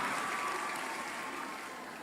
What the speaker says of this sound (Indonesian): Tepuk tangan sekali lagi lah